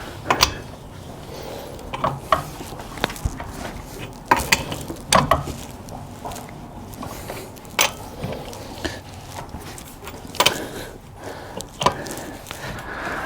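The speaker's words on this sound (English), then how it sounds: "I'm going to cinch down the lug nuts" Lug nuts on a Dodge Dakota wheel are tightened with a wrench, giving a series of close metallic clicks and clunks in irregular bursts over a low background hum.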